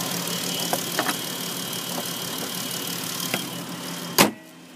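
A 2014 Dodge Caravan's 3.6 V6 engine idles with a steady, even hum and a few faint clicks, ending in a sharp knock as it cuts off.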